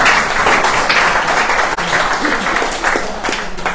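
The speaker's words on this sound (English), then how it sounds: "how about a round of applause" An audience at a book event gives a round of applause, a steady, fairly loud burst of clapping lasting a few seconds, with faint voices mixed in.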